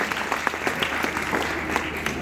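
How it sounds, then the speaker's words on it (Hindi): An audience at a live stage performance applauds the performers, dense, steady clapping from a crowd that continues for the whole short stretch. "कलाकारों की बुलंदी को हवा दीजिए और इनके लिए जोरदार तालियां बजा दीजिए।"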